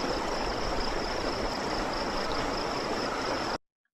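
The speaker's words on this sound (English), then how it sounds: "take a minute and listen to the sounds of the river at night" River flowing at night, a dense steady rush of running water filling the whole scene loudly and evenly, then cutting off abruptly into silence near the end.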